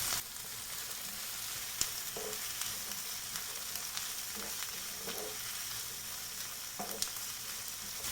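Finely chopped ginger and garlic sizzling in a pan, a steady close hiss of frying with a few soft stirring knocks and clicks, no speech.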